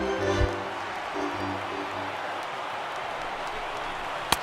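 A baseball video game stadium crowd of more than 39,000 for a Nationals game cheers on its feet, a steady dense roar filling the clip, with a brief sharp crack near the end.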